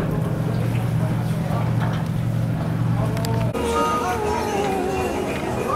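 Small yacht under way at sea off Tenerife, its engine giving a steady low drone for about three and a half seconds before voices and cabin chatter take over.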